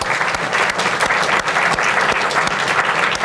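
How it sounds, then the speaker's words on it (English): Loud, sustained applause from the audience at a heritage preservation awards ceremony, with many hands clapping close and dense and sharp individual claps rising out of the crowd. "let's give everyone one last round of applause"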